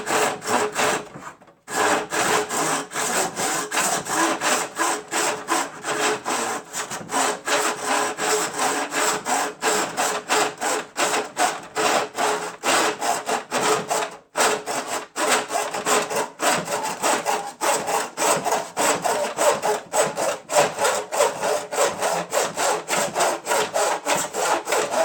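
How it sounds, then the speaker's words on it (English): A hand saw cuts back and forth through a workpiece for a CNC circuit housing, with steady rapid strokes that sound loud and close, and only a brief pause near the start. "Okay, now back to the normal saw."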